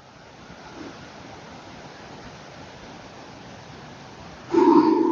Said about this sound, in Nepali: खर्दु यतिखेर अत्यन्त सङ्लिएर बगिरहेको छ, विशाल छ पानी